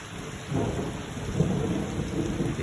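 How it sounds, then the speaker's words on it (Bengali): Steady rain and deep rolling thunder heard through a large window, a continuous low rumble that swells after the first half second and stays fairly loud with no voices. "এই বৃষ্টি এই মেঘের গর্জন"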